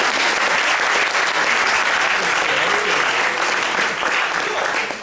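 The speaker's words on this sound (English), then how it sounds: "Give yourself a big round of applause." Audience applause at an improv comedy show, loud sustained clapping from a crowd filling the whole stretch and tapering slightly at the end.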